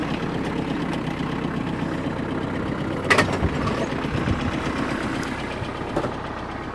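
Steady low chugging of a small Kubota tractor engine idling nearby after hauling poplar and maple logs, a constant rumble with a couple of brief knocks partway through.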